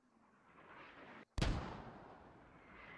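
A mortar round in the video game Squad lands close by: one sudden, heavy, loud blast that rolls into a rumbling, fading tail over steady low background noise.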